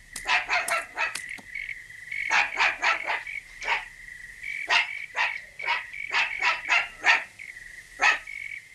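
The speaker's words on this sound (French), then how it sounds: "Pourquoi est-ce qu'il aboie?" A lone dog barks in irregular bursts, sharp, fairly close yelps, some in quick clusters, with quiet gaps between them and no voices.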